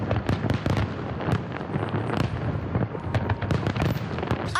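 A dense barrage of fireworks bursts and booms at an annual fireworks night in Windsor, Essex, rapid cracks and thuds overlapping continuously with no pauses between them.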